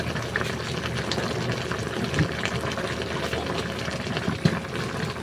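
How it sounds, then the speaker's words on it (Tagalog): A pot of coconut-milk stew with bottle gourd and roast pork simmers steadily, a soft continuous boiling hiss with occasional small pops, no voices. "Ayan mga idol, kumukulo na."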